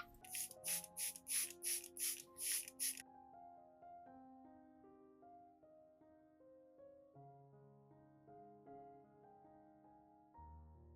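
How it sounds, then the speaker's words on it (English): A hand sprayer mists garlic and vitamin B1 solution onto plant leaves, giving a rapid run of about eight short hissing spritzes at the start, followed by soft music alone. "When spraying, you should spray evenly over the leaf surface so the solution distributes evenly and works more effectively."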